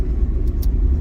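A 1959 Cadillac sedan drives along a neighborhood street stuck in second gear, its engine giving a loud, steady low rumble close by.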